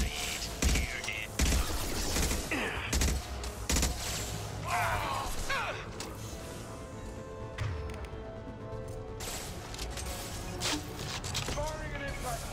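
Rapid gunfire and automatic bursts from a Mass Effect 2 battle against a Collector, dense crackling shots in the first half that thin into scattered fire, with voices calling out amid the combat.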